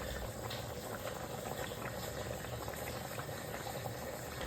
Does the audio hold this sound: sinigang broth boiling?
yes